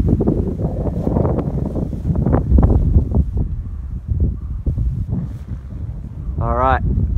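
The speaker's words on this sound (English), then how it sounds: "Probably a bit of wind noise there." Low, rumbling wind buffeting a microphone in uneven gusts while winter camping, with a brief voice near the end.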